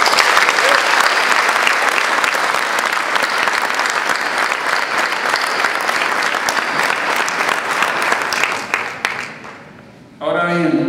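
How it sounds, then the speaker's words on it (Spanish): A large audience at a public presentation gives a loud, sustained round of applause. The clapping runs for about nine seconds, then tapers off and stops, and a speaking voice returns right after. "le demos un fuerte aplauso"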